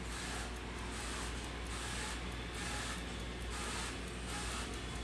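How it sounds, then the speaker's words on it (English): A spray bottle of avocado oil mists over a kitchen sink in a run of short, evenly spaced hissing bursts, near and steady, with no voices present. "Okay, I'm spraying it over the sink."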